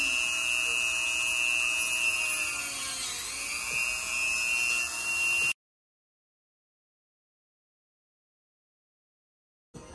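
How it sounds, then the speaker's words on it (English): A GOXAWEE rotary tool runs at high speed on artwork, a loud steady whine that dips briefly in pitch under load, then cuts off into about four seconds of silence before a short burst at the end. "I didn't expect this to be such a power drill."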